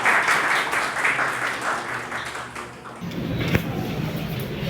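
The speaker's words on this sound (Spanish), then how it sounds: "Aplausos, por favor." An audience applauds at a medical students' debate on abortion, moderate clapping that rises, dips briefly and then returns fuller, with a sharp knock near the end.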